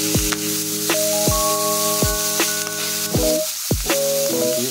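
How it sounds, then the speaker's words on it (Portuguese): Chopped dried salted beef sizzling loudly in a pan as it is sautéed, a constant frying hiss broken by repeated scraping strokes, close and clear with no talking. "Refogar."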